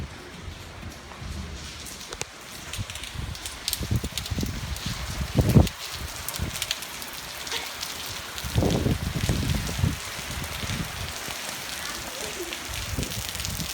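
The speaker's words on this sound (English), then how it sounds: "I'm filming it raining." Rain falling outdoors on a rainy day, a steady broadband hiss with scattered louder patters and bumps, with some low handling or rustling noise near the microphone.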